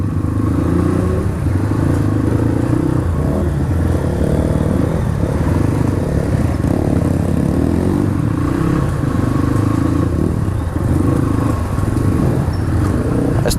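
A Hero dirt bike is ridden through thick mud, its engine a steady, loud drone that holds throughout without pause, with no talk over it.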